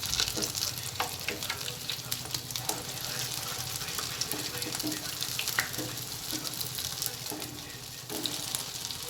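Sabudana vada fry in hot oil, producing a dense continuous crackling sizzle throughout, close and fairly loud, with small pops scattered through it.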